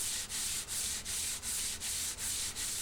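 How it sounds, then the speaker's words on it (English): Hand sanding a hardwood guitar neck blank, eight steady back-and-forth strokes of abrasive rubbing in an even rhythm with brief pauses at each turn, close and alone. "hours of sanding."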